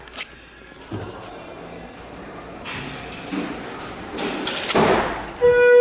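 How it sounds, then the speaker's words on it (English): A door into the elevator lobby of a Schindler hydraulic elevator at a Dillard's store thumps and bangs several times, scattered knocks growing louder toward the end, followed by a brief high-pitched tone. "Jeez, what is with this door?"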